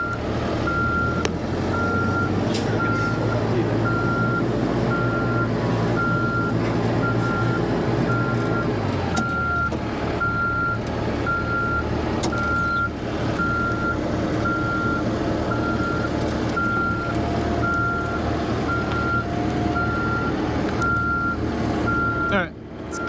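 An equipment-hauler truck sets off in reverse after its parking brake is released, its backup alarm beeping steadily at a regular pace over loud engine rumble, with the idle note dropping partway through.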